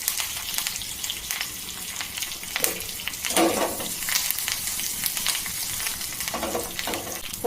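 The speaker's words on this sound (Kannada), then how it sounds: "ಒಗ್ಗರಣೆ ಆಗಿದೆ." Tempering of pepper, crushed garlic, asafoetida and curry leaves in hot oil sizzles and crackles steadily and close, with brief louder bursts as the pan is stirred, and no talking.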